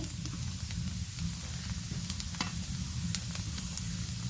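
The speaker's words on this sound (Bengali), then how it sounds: "ডালটা ভাজা হয়ে গেলে এই রকম একটু সাউন্ড হবে" Continuous crackling sizzle of lentils frying in a pan, close and fairly loud, with scattered sharp pops and scrapes.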